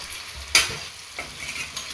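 Chicken manchurian sizzles in a hot pan while a spoon stirs it, giving one sharp scrape followed by softer stirring over a steady frying hiss.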